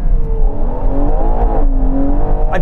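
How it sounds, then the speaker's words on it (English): A Ferrari Purosangue, a V12-powered SUV, revs hard and loud up close, its engine note rising and falling in sustained surges across the whole stretch with no talking. "It's mad having this engine in an SUV."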